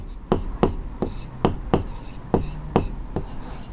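Chalk taps and strokes on a board as a trigonometry solution for a Class 10 maths lesson is written out, giving a steady series of sharp, close clicks about every third of a second, with a teacher's voice faintly underneath.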